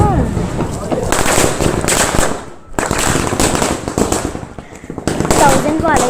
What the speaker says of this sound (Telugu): 1000 పాల. ఇది చాలా పెద్దగా పేలింది.